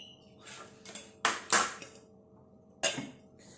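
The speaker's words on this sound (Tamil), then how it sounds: "ஒரு மூடியை போட்டு இப்போ மூடி வைக்க போகிறோம்." A metal lid is set onto a pot of rasam on the stove, giving a few sharp clanks and rattles, the loudest three standing out against a quiet kitchen background.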